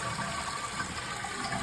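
A toilet flushes after its flapper has been replaced, with a steady rush of gushing water filling the tank and bowl, continuous and moderately close.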